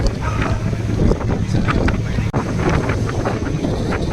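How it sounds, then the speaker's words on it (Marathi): Strong wind buffets the microphone in a constant loud roar, with gusty bursts throughout and no speech. "खूप जास्त वारा आहे इथे."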